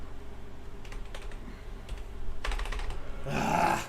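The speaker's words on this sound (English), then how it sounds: "I'm just going to type it" Typing on a computer keyboard in Microsoft Word: close, irregular bursts of clicking keystrokes with short pauses, ending in a denser, louder flurry of keys.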